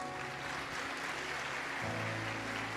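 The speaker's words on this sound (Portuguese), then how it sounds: "Você pode aplaudir o Senhor?" Congregation at a church service claps briefly and faintly, a soft spread of applause with a low tonal hum underneath.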